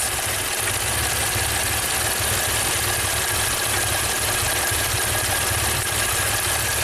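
A Maserati engine idles with ignition coil number 6 unplugged, giving a steady, continuous running drone with a faint uneven knock, close and alone with no voices.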